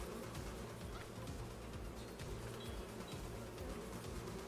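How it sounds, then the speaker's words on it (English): Honeybees buzz steadily in Farming Simulator 25, a continuous droning hum that stays level and fairly close for the whole stretch, with no talking over it. "If you're afraid of bees, then I'm sorry, you're just gonna have to hear them."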